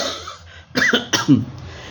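A person coughs twice in quick succession, close and fairly loud, with a throaty rasp.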